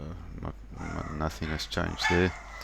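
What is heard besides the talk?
dogs barking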